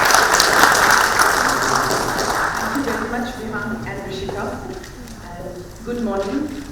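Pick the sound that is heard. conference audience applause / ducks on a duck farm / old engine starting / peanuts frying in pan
conference audience applause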